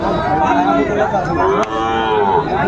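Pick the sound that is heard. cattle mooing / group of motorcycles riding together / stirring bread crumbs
cattle mooing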